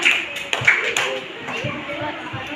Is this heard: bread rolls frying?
no